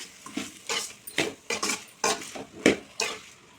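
Half a kilo of tomatoes being stirred in a cooking pot for a tomato, brinjal and fish curry, with a utensil scraping and clinking against the metal in repeated strokes, loud and close, no talk.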